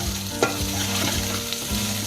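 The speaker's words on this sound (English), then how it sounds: "Once again, stir nicely." Okra (bhindi) is stirred into frying dal, a close, busy sizzle with soft spoon knocks and scrapes repeating through the short stretch, no voices.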